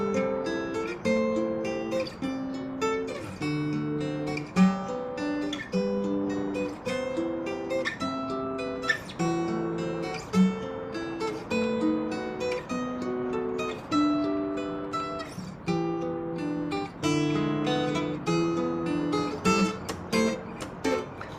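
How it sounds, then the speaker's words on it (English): A jazz guitar plays chords voiced with the root and third on top, a steady sequence of plucked chord changes with light melodic movement, close and clear with no talking. "then we can even go so far as combine root and then third."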